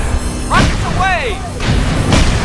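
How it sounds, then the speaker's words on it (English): Rockets launch from a racing car in the video game Cars 3: Driven to Win, two or three loud whooshing bursts under gliding, chirpy voice-like game sounds. "Rockets away!"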